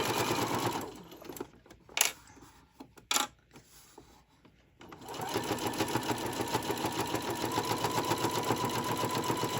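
Sewing machine stitching tote bag straps: a short burst, a pause with a few handling clicks, then a long steady rhythmic run of stitching up close.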